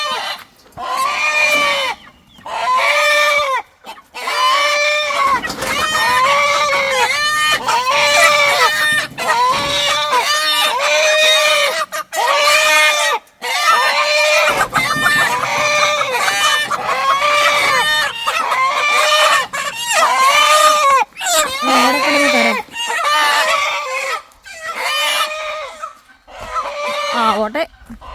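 Chickens cluck continuously up close on a farm while a rooster crows loudly over them, the loud, dense calls broken by short pauses.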